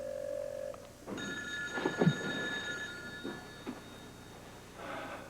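A telephone rings faintly in a quiet room: one electronic ring tone holds steady for about two seconds, and a few soft knocks and rustles follow.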